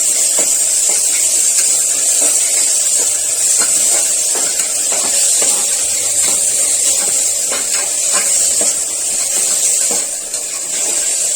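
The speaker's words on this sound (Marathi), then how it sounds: "कांदा व्यवस्थित परतून घ्यायचा आहे." Chopped onion sautés in a pan for rajma masala gravy, a loud continuous sizzling hiss with light irregular clicks from stirring, no talk.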